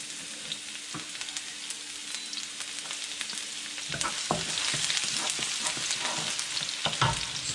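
Garlic sautéing in hot cooking oil, a steady close sizzle with intermittent stirring scrapes, growing louder and busier about halfway through.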